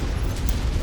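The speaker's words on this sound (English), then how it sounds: "We got an ammo explosion." Ammo cooking off inside a mech in MechWarrior 5: Mercenaries, a loud, dense rumbling explosion that fills the whole short burst with heavy low-end boom and no talk over it.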